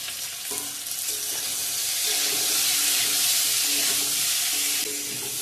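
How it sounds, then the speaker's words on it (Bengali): Salt and turmeric powder frying in a pan as the base of a raw mango pickle, a rising, hissing sizzle that grows louder midway and stays close, with light stirring and no speech. "ভালো করে ভেজে নেব।"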